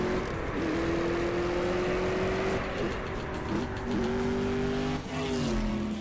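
A 1990 BMW M3 racing in CSR2, its engine droning in a steady rising pitch through the gears, with brief dips at each shift and a sustained loud tone throughout.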